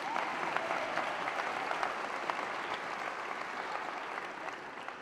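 Commencement audience applauding steadily in a large hall, a dense even wash of clapping throughout with a faint murmur of crowd underneath.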